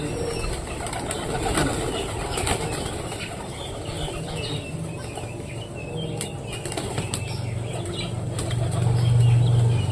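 Two pet pigeons call with low, soft coos, with repeated wing flapping and rustling nearby and a steady outdoor background throughout.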